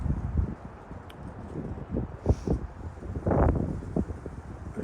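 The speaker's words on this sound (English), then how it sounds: "A little bit windy out." Gusty wind rumbles against the microphone in uneven bursts, with scattered soft thumps and rustling outdoors.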